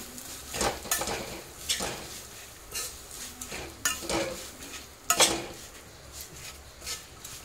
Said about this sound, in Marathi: त्याच्यानंतर हा गूळ टाकायचा आहे। सारखं हलवायचं।